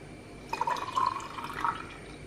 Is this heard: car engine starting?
no